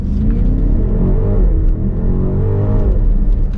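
A 2024 BMW X6 M60i with a 523-horsepower V8 accelerates at full throttle, giving a loud, deep, continuous engine roar. The pitch climbs steadily and briefly dips at a gear change, heard from inside the cabin.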